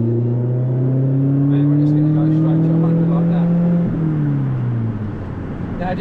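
Mini Supercar engine droning loudly from inside the car, revs holding steady then dropping and blipping as the driver downshifts with a rev match, the steady tone sliding lower near the end.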